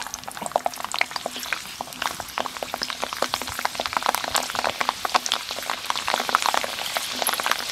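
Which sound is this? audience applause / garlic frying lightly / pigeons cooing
garlic frying lightly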